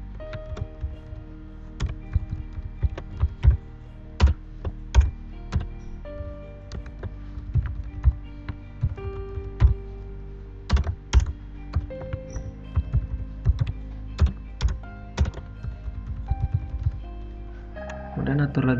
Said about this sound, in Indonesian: Pada bagian bawah saya akan mengetikkan